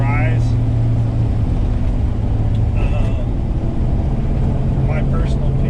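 A 1969 Dodge Coronet 500 with a 4-speed rolls down the road, its engine holding a steady low hum beneath a man's speech, with faint traffic noise around.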